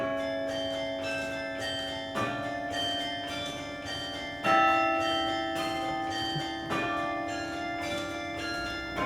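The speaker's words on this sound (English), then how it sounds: "Since the 1950s, the UF campus has been filled with the ringing of bells echoing from Century Tower." Old bells in Century Tower at the University of Florida chime in a sustained, ringing cascade, with fresh strikes roughly every two seconds layering over long resonant tails; no voices.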